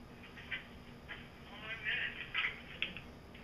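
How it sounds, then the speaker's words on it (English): A phone rings with an incoming call in a vlog, a repeating electronic trill that comes in short bursts under steady background hiss, moderately loud and nearby. "Getting another call."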